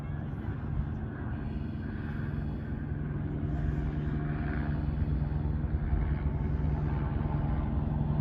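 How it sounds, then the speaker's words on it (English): Helicopters flying over a hilltop hiking area in Runyon Canyon, Los Angeles, a steady low rumble of rotor and engine noise that stays loud and continuous throughout, with no talk. "I'm at the top of Runyon Canyon in Los Angeles, so there's lots of choppers and hikers."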